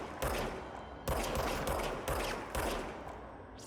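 Gunfire in the video game Control comes in four sharp, loud bursts about a second apart, each with a short trailing echo and sustained crackle, with no voices.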